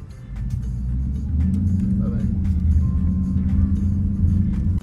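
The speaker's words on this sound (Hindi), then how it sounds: "वैसे यूजुअली मैं ऐसा रेव करता नहीं, और अभी बच्चे थे तो इसलिए मैं बोला चलो उनके लिए कर देता हूँ।" A Ford Mustang's engine gives a loud, close, continuous low rumble that holds fairly steady rather than rising in sharp revs.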